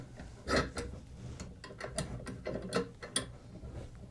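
Clamps being tightened on a guitar peghead veneer, a close run of small irregular clicks and ratcheting ticks, fairly quiet, with no voice.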